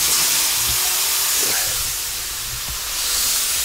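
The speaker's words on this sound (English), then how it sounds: "At the end, a bead of air does shoot out, and that's what you're going to hear when we turn the air on." Compressed air jet blowing dust off the abrasive paper of an SCMI UNO 36-inch wide belt sander, a steady, loud broadband hiss that holds throughout with a slight dip midway, no talking.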